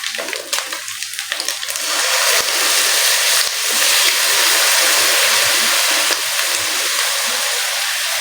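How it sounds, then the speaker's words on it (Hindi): Vinegar poured from a spoon into a pan of chicken tikka pasta with vegetables, a steady broadband hiss and splash that swells after the first couple of seconds and holds loud and close throughout, with no talk. "अब मैं इसमें सिरका ऐड कर रही हूँ"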